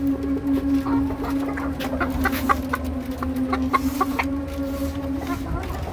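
Chickens on a poultry farm clucking as they eat, a close flock of overlapping short clucks and calls over a steady low hum, with scattered pecking sounds.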